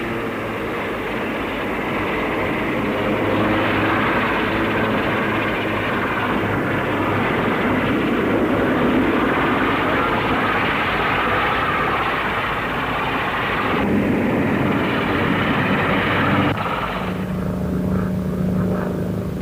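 A Fairey Rotodyne compound rotorcraft flying at the Farnborough Air Show, a loud, continuous roaring drone of engines and rotor that holds steady throughout with slight swells and no voices.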